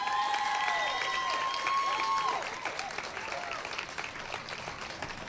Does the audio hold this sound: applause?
yes